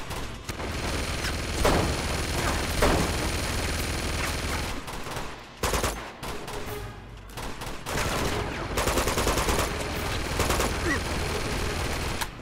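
A player's weapon fires in a video game, with rapid, dense gunfire bursts sustained across most of the stretch, broken by a few brief drops and quieter gaps.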